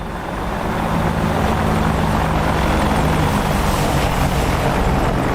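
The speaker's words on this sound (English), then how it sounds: "Let's get us a little flyby going." An AH-64D Apache attack helicopter in a combat flight simulator makes a flyby, its dense rotor thump and turbine roar loud, close and sustained throughout with no talk over it.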